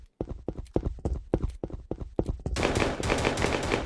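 Rapid gunfire in a Battlefield video game: a string of sharp, evenly spaced shots for about two seconds, then a dense, loud burst of continuous fire and noise filling the rest.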